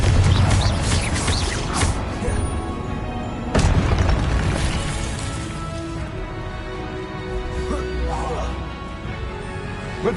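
Confringo blasting spell from the Hogwarts Legacy game on PS5, a run of loud booming explosions with a sharp burst near the start and another around the middle, rumbling tails and game sounds underneath.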